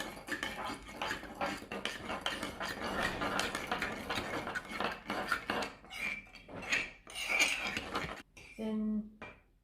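A spoon stirs a yeast, water and sugar mixture in a small bowl for coffee buns, with quick light clinks and scrapes against the sides that fade into scattered taps and a faint hum at the end.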